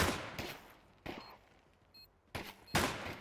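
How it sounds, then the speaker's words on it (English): Gunfire in a Counter-Strike esports match, several sharp broadband shot bursts at irregular intervals, with two bursts clustered near the start and more near the end, fairly close and loud over quiet in-game ambience with no talk. "Shots ring out."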